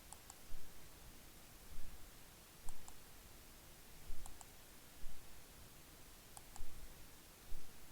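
Faint computer mouse clicks sound near, each a quick paired press-and-release, repeating at fairly regular intervals over a soft hiss with no talking.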